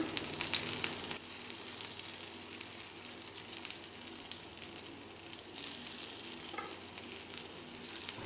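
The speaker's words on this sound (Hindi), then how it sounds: "तेल थोड़ा गरम हो गया है और अब इसमें हम एक एक करके साबूदाना टिक्की रखते हैं।" Sabudana tikki (sago vada patties) frying in hot oil on a low flame, a steady close crackling sizzle running throughout, briefly louder at the start, with faint scraping touches.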